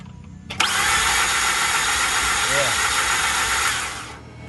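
A 2005 Mazda RX-8 cranks without starting: a loud, even starter whirr kicks in abruptly, holds steady for about three and a half seconds, then fades out, with a brief voice underneath.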